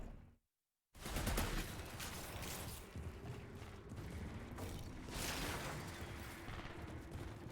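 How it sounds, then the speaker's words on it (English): Shotgun blasts and combat noise in the sci-fi shooter Outriders: a brief silence, then a loud burst followed by a steady dense wash of gunfire and mechanical clatter, with heavier swells throughout and no talking. "Shotgun go burr?"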